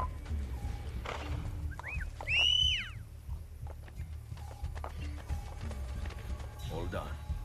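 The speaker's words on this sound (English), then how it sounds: "My horse followed me the entire way." Horse hooves clip-clop through Assassin's Creed Brotherhood on PS3, a soft steady patter of steps joined by a brief whinny partway through, with faint game effects around it.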